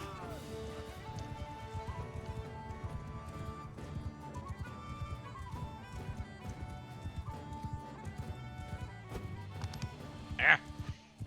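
Horse hooves gallop steadily in the medieval combat game Mount & Blade II: Bannerlord, thudding continuously beneath game music, battle clutter and someone talking.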